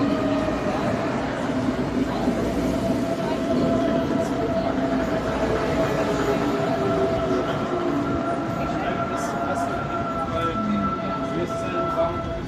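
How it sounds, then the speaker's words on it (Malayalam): A railway train passes near a bridge in Germany, its loud, continuous rumble and rolling rail noise filling the whole stretch, with people talking over it. "Railway train."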